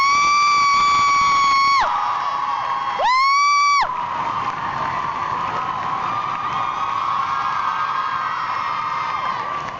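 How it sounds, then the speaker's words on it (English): A convention panel audience at Fairytales 3 cheers loudly for evil Regina, a dense crowd roar with shrill whoops and high screams rising and falling over about ten seconds, close and sustained. "Applaud for evil Regina."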